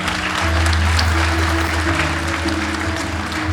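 Audience applause at a certificate presentation ceremony, continuous broad clapping from a seated crowd heard over a steady low hum from the room's sound system.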